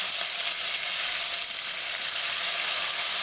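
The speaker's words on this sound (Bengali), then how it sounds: "ভেজে নেব তেলটা ঠিক এইরকমই গরম করবে বন্ধুরা তাহলে ভেন্ডিগুলো খুব সুন্দর ভাজা হবে" Okra pieces sizzle steadily in hot oil in a pan, a continuous, close, bright frying hiss with no pauses and no voices.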